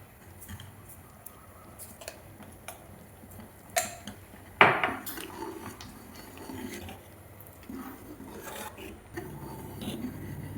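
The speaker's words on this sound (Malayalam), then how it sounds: "അതും ചേർത്ത് നന്നായി ഇളക്കി യോജിപ്പിക്കുക" A spoon stirs thick spinach curry paste in a cooking pot, making soft scraping and rubbing strokes with scattered clinks and one or two louder knocks against the metal.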